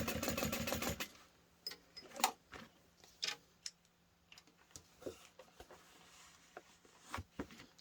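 A sewing machine stitches a seam on an anti-theft backpack in one short burst of rapid, rhythmic stitching, followed by scattered quiet clicks and handling taps.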